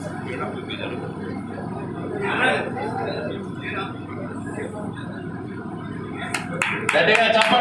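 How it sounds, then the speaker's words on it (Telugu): An audience at an RTC Greater Hyderabad zone retirement function breaks into scattered, building applause near the end, with sharp claps rising over ongoing talk and crowd murmur. "గట్టిగా చప్పట్లు"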